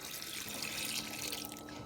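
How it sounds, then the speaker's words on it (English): Water runs from a tap into a pot of cabbage for Irish potato soup, a steady, fairly quiet splashing rush with no talking. "So I've added the cabbage and I've added water until the water covered the cabbage."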